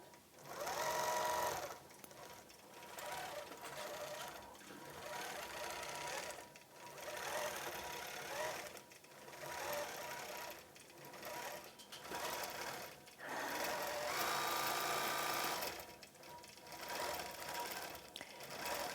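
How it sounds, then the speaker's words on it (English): A computerized sewing machine stitches a quilted feather pattern, a steady mechanical whir of rapid needle strokes that runs in bursts with short pauses between them, close and fairly loud throughout. "And so now I can just tell the computer to sew it."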